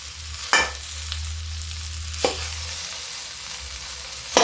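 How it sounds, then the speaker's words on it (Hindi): Food fries with ajwain in a pan, a continuous close sizzle broken by three sharp stirring scrapes, with no speech. "अब इसको हम इसमें फ्राई करेंगे थोड़ा सा।"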